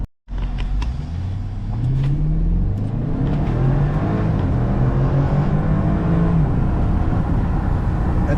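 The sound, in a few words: BMW car engine accelerating uphill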